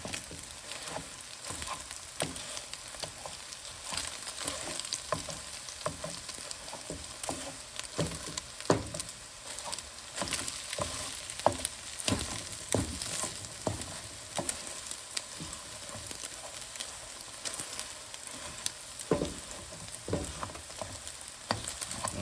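Eggs sizzle and crackle in a hot pan for chicken shrimp fried rice, a dense, steady close frying hiss with fine popping throughout and no talk.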